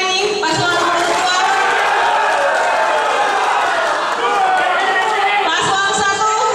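Debate audience at a 2018 Minahasa regent and vice-regent election debate breaking into loud, sustained applause and cheering for candidate pair number 2, a dense crowd roar filling the hall throughout.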